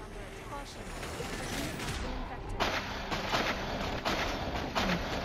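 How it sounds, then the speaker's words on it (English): Carpet bombing in the video game Cepheus Protocol, a dense barrage of booming explosions and crackling blasts that erupts partway through and keeps pounding in rapid succession, loud and close. "Hey, carpet bomb."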